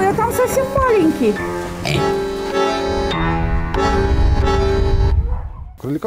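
Pigs oinking and grunting close by in a rural farmyard in the Gorki district of Mogilev region, Belarus, with voices talking over and between the animal sounds throughout.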